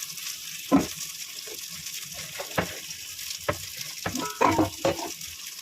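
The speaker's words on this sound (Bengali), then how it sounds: "মাছ ভাজার তেলের মধ্যে আমি পেঁয়াজ কেটে রেখেছিলাম, পেঁয়াজটা ভেজে নেবো। পেঁয়াজের সঙ্গে আমি আলুটাও ভেজে নেবো।" Chopped onion and potatoes fry in oil left over from frying fish, with a soft sizzle punctuated by irregular scraping and clattering knocks as a spatula stirs the pan.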